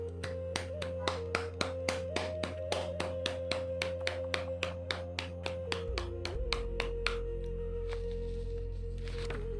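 Audience clapping in a hall at the close of a Shiva meditation session, a steady run of sharp, evenly spaced claps over a sustained droning tone, fading toward the end.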